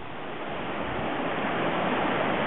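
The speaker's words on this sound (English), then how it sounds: "This is crossing of Bear Creek." Bear Creek rushing at a John Muir Trail crossing, a steady, loud wash of fast-flowing water filling the whole moment without a break, no voices.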